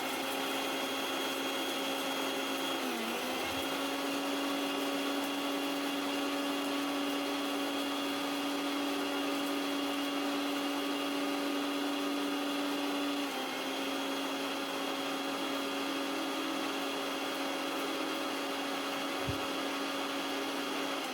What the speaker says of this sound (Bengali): তারপর আমি মিক্সিতে ভালো করে এটাকে